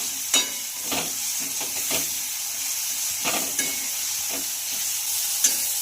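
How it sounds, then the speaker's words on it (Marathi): Spring onion sautéing in a pan with turmeric and salt, a steady close sizzle broken by repeated scraping stirs of a spatula, with no talking. "चवीनुसार मीठ आणि छान येणार असं मऊ होईपर्यंत परतून घ्यायचं आहे"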